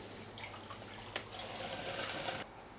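Water is siphoned out of an aquarium set up as a stream tank, a faint continuous trickling and gurgling with a few small drips and a brief clunk, then the flow sound drops near the end.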